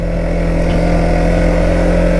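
Kymco Maxxer 450i ATV with a 443cc fuel-injected single-cylinder engine running steadily, a loud continuous close-up drone with a strong low hum and no voices.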